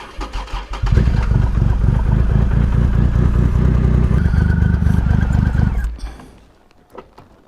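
A Triumph motorcycle engine cranks in a few stuttering bursts, then catches and runs with a loud, steady rumbling idle for several seconds before shutting off, leaving near silence and a faint click.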